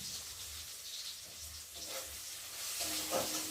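Garlic frying in oil for masoor lentil dal gives a soft, steady sizzle with faint crackles, quiet and uninterrupted.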